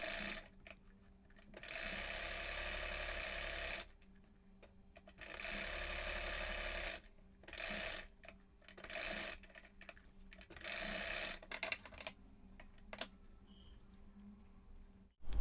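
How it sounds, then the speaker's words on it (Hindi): Sewing machine stitching the top edge of a girl's skirt-and-top outfit, running in several steady bursts of a few seconds each with short pauses between, close and fairly loud, no talking. "अब ऊपर से भी सिलाई लगा देंगे।"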